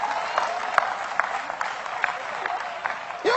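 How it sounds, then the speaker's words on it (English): Applause from an audience, a steady wash of clapping with a few sharper claps standing out, fairly close and continuous throughout. "Oh, come on, clap anyhow."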